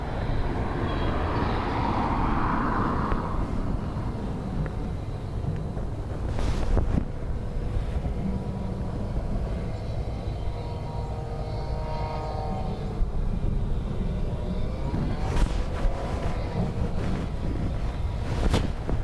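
Storm Bram's high winds buffet a microphone at Dublin Airport with a continuous roaring rumble, rising in gusts, and a few sharp bursts of wind noise near the middle and end.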